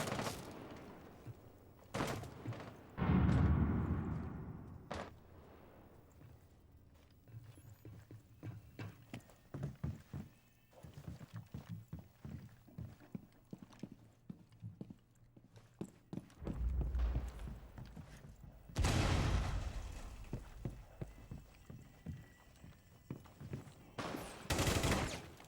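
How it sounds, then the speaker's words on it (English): Gunfire in the video game Rainbow Six, heard as several bursts of sharp shots, some loud and close and others distant, separated by quieter stretches of light clicking movement. "Here's some gunshot."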